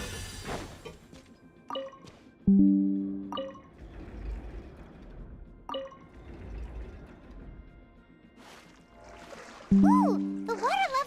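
Water level rising after a mechanism activates in the video game Genshin Impact, heard as trickling, rushing water and mechanical clunks, with a few low rumbling thuds and chimes. A voice talks over part of it.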